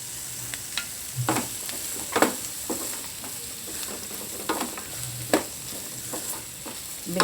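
Okra and onion fry in a pan, a steady sizzle broken by repeated sharp scraping clacks of a spoon stirring against the metal, close and fairly loud with no voices.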